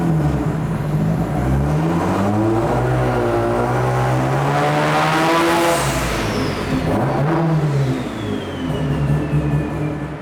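A Mazda rotary engine on a dyno revs steadily up to 5,000 RPM and back down over several seconds, a high rising whine sweeping through, sustained and close with no talking.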